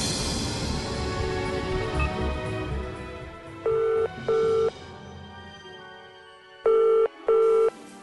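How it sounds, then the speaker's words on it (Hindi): A telephone rings in two short double bursts, electronic and fairly loud, over a faint musical background with no talking. "ईशान मल्होत्रा फोन क्यों नहीं उठा रहा है?"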